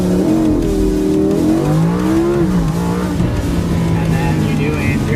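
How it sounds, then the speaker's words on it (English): Car engine climbing through revs in a 0 to 30 mph launch with traction control off, a loud rising whine with shifting pitch, and a person talking over it. "And then you do a 0 to 30 mile an hour launch"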